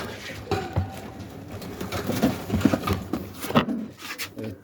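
Soft pigeon cooing repeats under a busy background of rustling and bird activity, fairly close and moderately loud.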